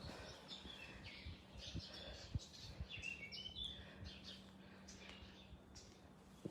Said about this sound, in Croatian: I ptice se čuju. Usred Splita.